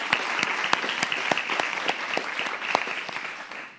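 An audience at a university event claps in a steady, dense round of applause, fairly loud and close, holding evenly for a few seconds before easing off slightly at the end.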